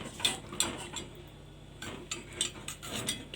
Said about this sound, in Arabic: هديها تقليبه لحد ما تسيح.